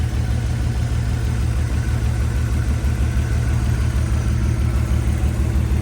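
Toyota Supra engine fitted with a CX Racing T61 turbo idling after a turbo swap, a loud, close, steady low rumble with a faint uneven pulse and no talking.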